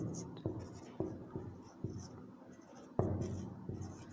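Chalk writes large letters on a classroom board in a string of tapping strokes and scratches, with a teacher speaking quietly underneath.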